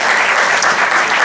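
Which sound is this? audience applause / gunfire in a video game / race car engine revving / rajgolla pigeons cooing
audience applause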